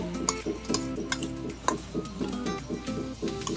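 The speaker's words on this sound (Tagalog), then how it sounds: "Haluin lang natin ito." Seasoned ground pork mixture with black pepper and salt being stirred for siomai, giving soft, rhythmic scraping and clicking strokes at moderate volume, repeated steadily with no talking.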